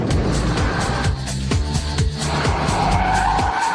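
A supercharged Mercedes CLS 55 AMG driven hard, its engine roaring loud and close as the tyres squeal and skid continuously, with engine pitch rising and falling through gear changes.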